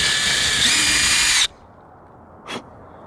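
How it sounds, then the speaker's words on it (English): A power drill enlarges a hole in a Scamp trailer, whirring loudly and steadily for about a second and a half, then cuts off, followed by a brief quiet thump. "now we've got the right drill bit"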